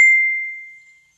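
A single bright phone notification ding rings out clearly and alone, a pure tone that fades away over about a second.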